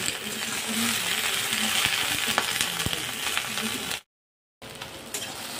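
Okra stirred and fried in a pan, with a steady close sizzle and scraping stir strokes. There is a brief gap of silence near the end, then the frying resumes.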